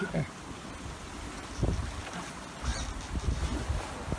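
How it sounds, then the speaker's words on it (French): Aboard a sailboat at sea in a swell with winds up to 25 knots, gusty wind buffets the microphone and water sloshes against the hull, with rumbling surges rising and falling throughout. "il y a de la houle ici, et 25 nœuds de vent maxi"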